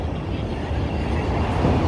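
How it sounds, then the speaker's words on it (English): A train rumbles through downtown Chicago, a steady, broad low roar that holds loud and even throughout with no voices. "There's the train."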